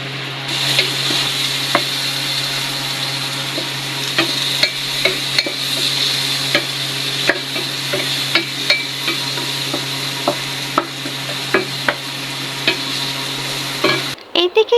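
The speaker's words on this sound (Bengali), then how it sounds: "আমু তো এখন পেঁয়াজ মরিচ আর রসুন ভেজে নিচ্ছে তো এগুলো লালচে করে ভেজে নিবে" Onion, chili and garlic fry in soybean oil in a wok with a steady loud sizzle. Frequent sharp clicks of a spatula scraping and stirring punctuate it, with no talking.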